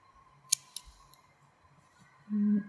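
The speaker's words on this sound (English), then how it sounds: "All we have to do is take scissors and snip the" Two quick, crisp scissor snips through yarn ends close by in a quiet room, followed moments later by a short low hum.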